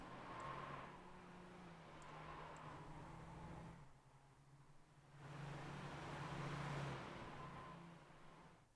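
Race car engines in a racing video game at the Brands Hatch GP circuit, a steady droning hum that rises and falls across several passes, with a brief dip in the middle, fairly faint and without talk.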